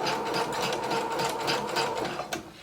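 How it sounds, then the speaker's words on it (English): A sewing machine stitches knit fabric for a maxi dress seam, giving a steady, close mechanical whir with a rapid needle rhythm that runs without pause. "go ahead and begin sewing"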